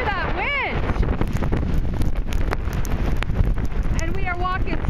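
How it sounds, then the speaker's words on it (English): Strong Hurricane Irene wind roars along Route 30 as a loud, continuous, buffeting rush that batters the microphone, with voices talking over it. "Can you hear that wind?"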